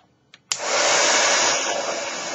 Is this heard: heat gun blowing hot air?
yes